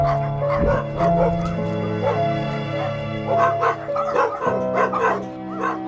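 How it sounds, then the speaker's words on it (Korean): Several dogs barking, yipping and whimpering close by at a puppy farm in a dark plastic greenhouse, with overlapping loud barks continuing throughout. "가까이서 개 짖는 소리가 들립니다."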